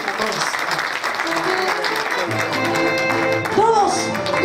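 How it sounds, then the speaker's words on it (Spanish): An audience claps along with live music at a tribute concert for Benigno Ballón Farfán in Arequipa, the clapping forming a dense, continuous layer under the sustained tones of the band. "Todos con esas palmas, porque hoy es día de alegría."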